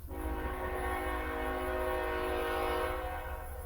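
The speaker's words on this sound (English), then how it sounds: "Got a train coming over here, so it's going to get loud for a minute." A train rolls steadily past at close range while its horn blares loudly and continuously for the full length, a dense, sustained rumble with no talk over it.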